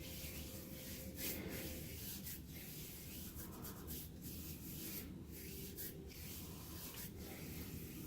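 Steady close-up rubbing and squishing as non-foaming shave gel is worked into a scalp by hand, a continuous soft friction with no talking.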